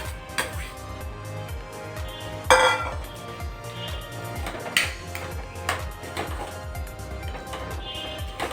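Vegetables tipped into a hot pan for a home-cooked Punjabi-style dish, giving clattering clinks and a brief sizzling burst, with metal utensil taps against the pan continuing around it.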